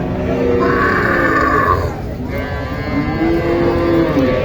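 A Sahiwal cow and calf at a cattle market in Joypurhat moo twice, loud and close, each call drawn out for about a second over a steady murmur of market crowd noise.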